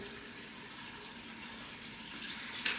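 Chilled sparkling water runs from a kitchen tap in a new house, a faint steady hiss and trickle that continues evenly, ending with a brief louder splash or clink.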